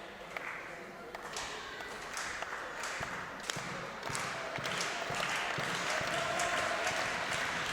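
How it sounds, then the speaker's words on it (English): Crowd noise fills a wrestling match between two closely matched men, a steady roar of cheering and clapping with scattered sharp claps and thuds, running under continuous commentary. "The crowd now rallying behind Jackson Drake"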